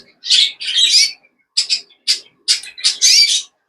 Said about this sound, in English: Okay guys, here we have are 2 buff birds.